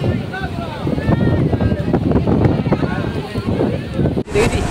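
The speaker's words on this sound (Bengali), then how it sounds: "কিন্তু হেভি স্পিডে যাচ্ছে ট্রলারটা।" A fishing trawler moving fast at sea off Digha, its engine and rushing water blending into a steady broad roar with heavy wind buffeting the microphone, and someone talking over it.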